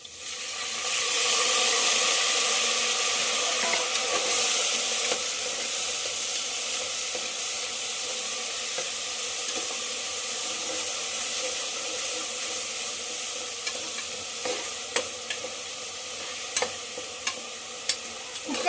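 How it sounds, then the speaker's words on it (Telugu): Ginger garlic paste frying in hot oil, a loud close sizzle and hiss that settles, then a few sharp ticks and stirring clicks as tomatoes go into the pan; no talk. "రెండు నిమిషాలు ఫ్రై అయిపోయిన తర్వాత టమోటాలు వేసేస్తున్నా"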